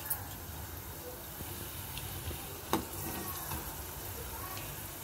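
Coriander seeds and a little cumin fry in a pan with a soft, steady sizzle and a few faint crackles and stirring clinks, fairly quiet throughout.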